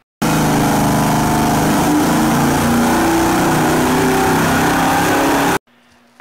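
A Ford 392 stroker small block engine runs hard on a dyno with aluminum roller rockers, a loud, steady mechanical roar that holds for about five seconds and then cuts off abruptly, leaving a low, faint tail.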